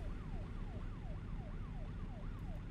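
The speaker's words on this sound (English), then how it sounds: "Air siren. They're coming to get you." Rising and falling electronic air siren in the American Truck Simulator game, wailing in steady repeated sweeps about every quarter second over a loud low engine rumble, with no talk.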